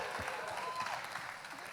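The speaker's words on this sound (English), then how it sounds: "First off, round of applause." Audience applause after a PechaKucha presentation, a steady wash of clapping from a crowd that holds even for the whole short stretch at moderate distance.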